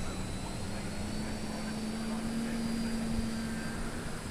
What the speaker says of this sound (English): Let's take off the grass and see how it does.